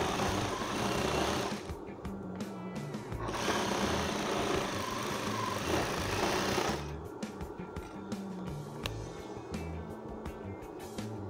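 Sewing machine stitching the hem of a midi flared skirt, a steady fast mechanical whir that runs continuously, pauses briefly, then resumes with faint clicks.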